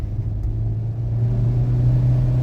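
A DFSK Glory 580 Pro's 1.5-litre turbo engine hums at a steady low rumble, rising slightly as the throttle is applied, close and fairly loud.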